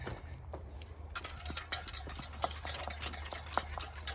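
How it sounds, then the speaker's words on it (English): A whisk stirring clam chowder in a camp cooking pot, with a quick series of light scraping strokes against the pot over a low background hum, close and fairly quiet. "whisk."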